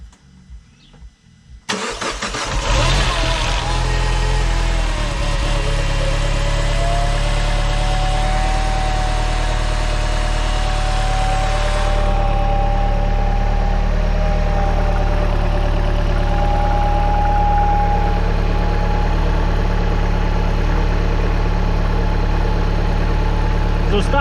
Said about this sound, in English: we are ready to try and start the car